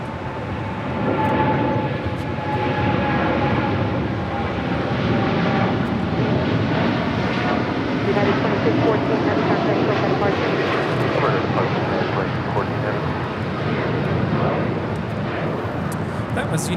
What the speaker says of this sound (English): That was United 2614 taking off to Newark on a 787-10 Dreamliner